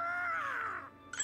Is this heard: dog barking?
no